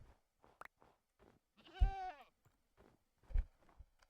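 A goat in the FoodQuest video game gives one clear wavering bleat near the middle, surrounded by short faint clicks and thumps in otherwise quiet game audio.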